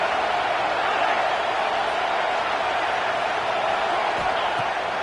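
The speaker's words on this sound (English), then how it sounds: "Decibels rising as the crowd gets behind this defense on 3rd down." Stadium crowd in College Football 26 roars steadily as fans rally behind the defense on third down against Auburn, a dense, continuous wash of cheering with no breaks.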